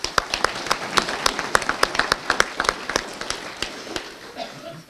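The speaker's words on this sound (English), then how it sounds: "so we can give her a round of applause" Audience applause at a livestock development association dinner, a thin scatter of individual claps from a modest room, loose and uneven, fading out toward the end.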